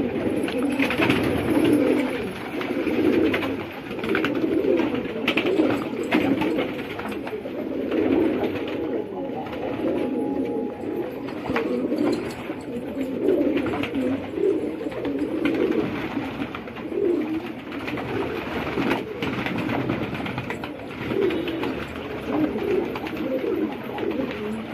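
Pigeons bathing on a sunny day after bad weather, with steady soft cooing and low warbling calls running throughout at close range, mixed with faint splashing and rustle.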